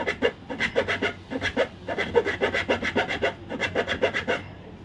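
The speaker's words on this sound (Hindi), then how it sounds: "तो इसको हम एक आरी के ब्लेड से कटिंग कर लेते हैं।" A hacksaw blade cutting into a plastic extension board casing: quick rhythmic back-and-forth rasping strokes, close and steady, with a short pause mid-way.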